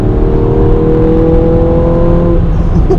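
A tuned Ford Fiesta ST180 accelerates hard, its engine droning loud and close with a steadily rising tone for about three seconds before easing off, no talking.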